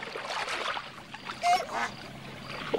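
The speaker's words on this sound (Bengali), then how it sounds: "সেই রাতে বুনো বালি হাঁসের দল নামল হ্রদের জলে" Wild geese come down onto a lake in a radio-drama sound effect: a short burst of honking and splashing water rises around the middle, set against a soft wash of background noise.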